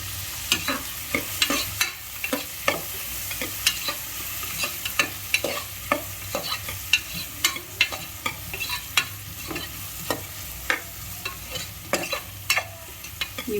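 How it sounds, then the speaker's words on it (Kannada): Ingredients for mint rice with turmeric frying in a little oil, a constant low sizzle broken by a steady run of sharp scraping and tapping strokes from a stirring spoon in the pan, close and without talk. "ಸ್ವಲ್ಪ ಎಣ್ಣೆಯಲ್ಲಿ ಫ್ರೈ ಆಗೋವರೆಗೂ ಬಿಡಬೇಕು."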